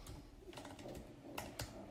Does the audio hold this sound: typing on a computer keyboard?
yes